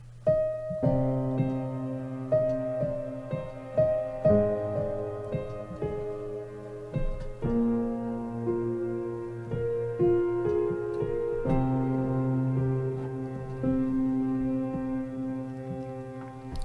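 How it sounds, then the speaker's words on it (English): A Heavocity Ascend modern grand piano sample library plays slow, resonant chords and melody notes that ring and overlap, with a warm low end and gentle dynamics. "So lovely, rich sounding modern grand piano"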